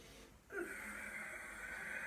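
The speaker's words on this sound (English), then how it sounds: "Again, breathing in." A deep inhalation is drawn in slowly through the nose during a yoga breathing exercise, a close, soft, airy breath that starts abruptly and holds steady for about a second and a half.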